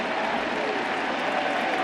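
Baseball crowd at Fenway Park during a 2016 Yankees vs. Red Sox game, roaring and cheering as a strikeout is awaited: a dense, steady wash of distant crowd noise with no break.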